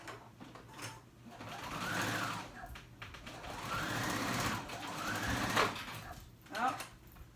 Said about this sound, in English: I'm edge stitching